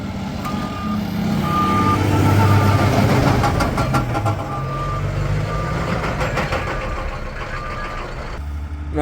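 A truck with stock crate trailers reverses through sand dunes, its beeper chirping in a regular rhythm over a loud, labouring engine.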